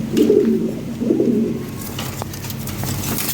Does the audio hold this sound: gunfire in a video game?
no